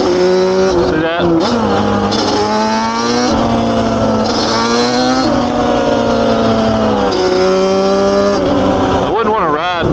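A two-stroke Yamaha Banshee ATV fitted with aftermarket CPI or Shearer pipes revs hard and loud, its engine note climbing and falling in repeated surges through the power band, with a person talking over it.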